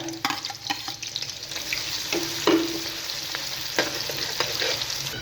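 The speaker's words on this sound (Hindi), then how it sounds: "प्याजों को हमने कर लेना है जी फ्राई।" Onions frying in hot cooking oil in a pan on the stove give a steady, crackling sizzle with occasional stirring clatters, close and moderately loud, with no talking.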